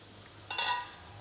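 Leftover dosa batter snack frying in a pan gives a short scrape of stirring and a brief, bright sizzle that swells and fades within a second, close by with no talking.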